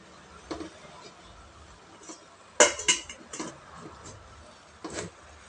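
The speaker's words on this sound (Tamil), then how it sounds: "இப்போ இட்லி பாத்திரத்தையும் மேலே மூடி போட்டு மூடி வச்சிடலாங்க" A metal idli steamer pot holding buffalo colostrum milk is covered with its lid, making a couple of close metallic clanks and rattles amid quieter kitchen clinks.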